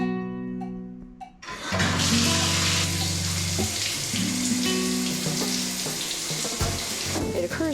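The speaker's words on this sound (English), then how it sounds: "a long, hot shower." A hot shower at a marina runs in a steady, close hiss of spraying water, starting after a brief quiet lead-in and continuing unbroken with faint background sounds.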